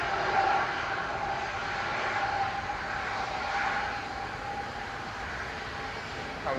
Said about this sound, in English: That was Ryanair 1227 to Reyes, 9HQBA, 737-800.